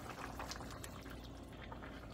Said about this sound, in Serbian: Dodajte vrhnje za kuhanje.